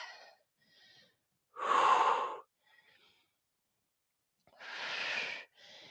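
Forceful exhales during a single arm chest press workout, two strong breaths about three seconds apart with fainter breathing between them, close and breathy against silence.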